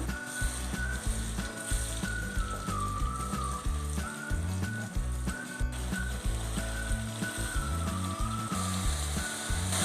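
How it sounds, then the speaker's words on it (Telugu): Onion paste frying in hot oil in a pan for a restaurant-style chicken curry, a steady dense sizzle and crackle running throughout, close and even, with faint background music underneath. "స్టవ్ వెలిగించి పాన్ పెట్టుకొని చికెన్కి సరిపడా ఆయిల్ పోసుకొని ఉల్లిపాయ పేస్ట్ వేసుకుందాం"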